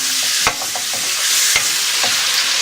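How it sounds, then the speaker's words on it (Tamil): Chicken sizzles loudly in hot oil for a chicken kulambu, a dense, steady frying hiss with a few sharp crackles and pops scattered throughout. "இந்த எண்ணெயில் வந்து நம்ம சிக்கனை இப்போ சேர்த்துக்கலாம். ஒரு 5 மினிட்ஸ் நல்லா எண்ணெயிலேயே ஃப்ரை ஆகட்டும்."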